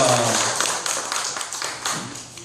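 A church congregation gives a round of applause during a Sunday worship service, dense clapping from many people that starts strong and gradually thins, with a few faint voices mixed in.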